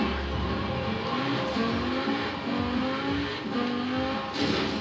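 A race car in Forza Horizon 4 revs and shifts through gears, its engine note rising and falling in repeated sweeps, loud and continuous with faint tire noise underneath.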